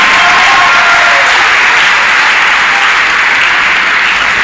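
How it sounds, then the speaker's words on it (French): A church congregation gives loud, sustained applause for Jesus, a dense wall of clapping that fills the room without letup for several seconds. "Si tu acclames Jésus, acclame-le fortement"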